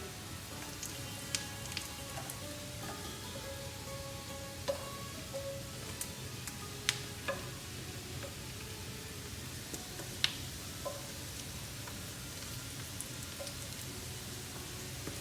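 Corn fritters shallow frying in oil in a pan, a steady close sizzle with scattered small pops and crackles throughout.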